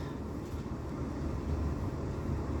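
Passenger train pulling into Woking station on a rainy afternoon, a steady low rumble of wheels and carriage noise holding even and fairly loud throughout, with no voices.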